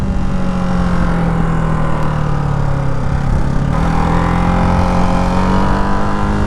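A Ducati Hypermotard 698 Mono's single-cylinder engine revs hard and steadily in second gear during a wheelie. The loud, close engine note holds a sustained buzzing drone, with its pitch dipping and rising midway.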